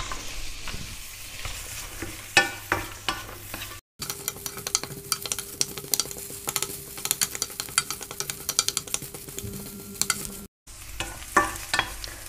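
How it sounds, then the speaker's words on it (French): Carrots sautéed in a pan for a Korean spicy pork stir-fry, a soft steady sizzle punctuated by scattered stirring scrapes and clinks of a utensil, fairly quiet and close, with two brief cuts. "Après, je vais faire sauter les carottes."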